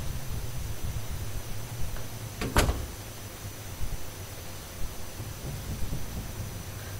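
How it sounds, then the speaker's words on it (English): A single heavy thud of someone banging on a door in the video game The Crooked Man breaks through a low steady rumble of ambient background noise. "There was somebody banging on the fucking door."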